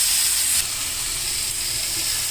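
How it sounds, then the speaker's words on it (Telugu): Bread and egg frying lightly in a pan, a loud, steady sizzling hiss that continues evenly throughout. "ఇది కాస్త వేయించుకుందాం. లైట్గా ఏగితే చాలు,"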